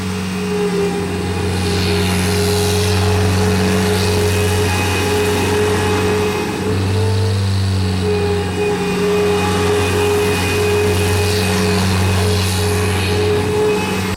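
Mudd-Ox amphibious vehicle running steadily and spinning in place by counter-rotating its sides, a continuous loud engine drone with a steady low hum and a slight shift in pitch partway through.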